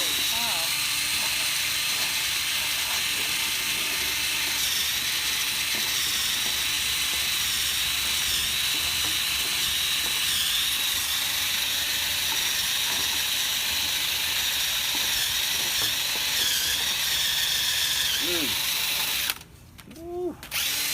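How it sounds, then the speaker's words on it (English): A drill-driven brush grinds steadily inside a packed dryer vent, a continuous loud mechanical whir and rattle lasting about twenty seconds before it cuts off near the end, with voices talking over it. "anytime you hear the drill, you hear like it's grinding on itself, it gets in the hair"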